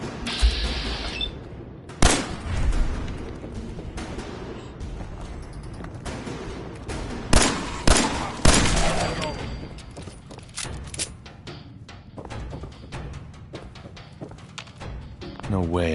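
Gunfire in the Fallout 4 video game sounds as scattered sharp shots and thuds over busy game noise. There are a few louder bangs and some voices in the mix.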